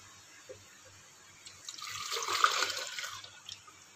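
Homemade soy milk pours and trickles through a strainer, a soft liquid splashing that swells in the middle and then tapers off, with a few faint knocks and no voices.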